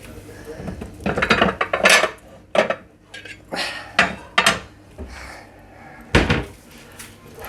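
A metal roasting pan being pulled out and handled among other cookware, with irregular loud clanks, bangs and rattles of pans and utensils close by, separated by brief pauses.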